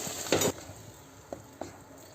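A spoon stirs half a kilo of tomatoes into fried tomato paste in a pot. One louder scraping stir is followed by a few soft clinks over a faint sizzle, all fairly quiet.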